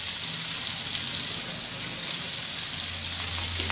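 Chopped onion frying in hot oil for veg spring rolls, a steady close hiss and crackle that holds evenly throughout with no talking.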